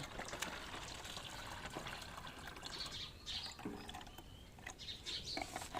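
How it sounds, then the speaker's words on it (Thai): Water runs out of a container after its cap is opened, part of a self-watering setup for growing basil; a steady, close trickling and splashing with faint bird chirps in the background. "ถ้าเกิดเราเปิดฝาเนี่ยค่ะ น้ำเขาก็จะไหลออกมาแบบนี้เลยนะคะ"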